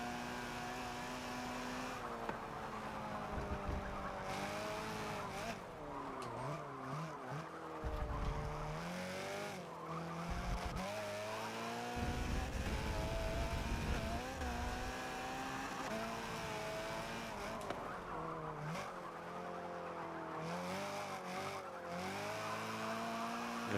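Race car engine revving hard through the gears with tire squeal in Forza 7 racing game, a loud continuous whine rising and dropping with shifts, steady throughout.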